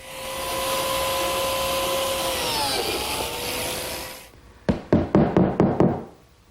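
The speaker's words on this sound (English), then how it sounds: "I'll simply run the biscuit joiner against the level and cut the slots" A biscuit joiner runs with a steady high whine while cutting slots in a tabletop, the pitch dipping under load, then shuts off and is followed by a quick series of sharp knocks.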